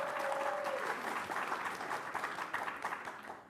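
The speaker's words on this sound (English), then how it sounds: "interrupt with applause anytime you like" A panel discussion audience at a comics convention claps in a brief, dense round of applause that tapers off toward the end, with a short tonal whine at the start.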